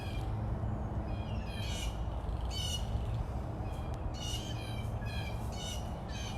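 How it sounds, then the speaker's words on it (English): Many birds squawk and caw outdoors at a big cat rescue, harsh repeated calls overlapping from middle distance over a constant background hiss. "clearly there's a lot of birds out causing some drama right now"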